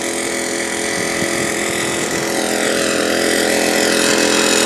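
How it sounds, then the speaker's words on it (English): A lawnmower runs outdoors with a loud, continuous buzzing drone that rises slightly in pitch toward the end. "He's just pacing, using a lawnmower."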